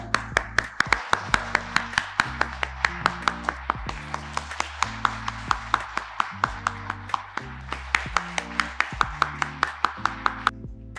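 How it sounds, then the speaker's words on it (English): Panel audience at an Indian finance leadership event claps in a steady, evenly spaced rhythm for about eleven seconds, the sharp hand claps sitting over a continuous tonal background. "Ladies and gentlemen, please join me in giving them a warm round of applause."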